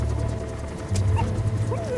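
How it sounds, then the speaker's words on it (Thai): Puppy whimpers from Metal Gear Solid V: The Phantom Pain, a couple of short high whines sliding in pitch over a low rumbling game soundtrack, fairly quiet and close. "ตอนนี้มันยังเป็นแค่ลูกหมาเลย ไม่ยอมฟังคำสั่ง"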